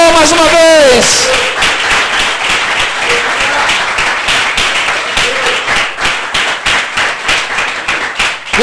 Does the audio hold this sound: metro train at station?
no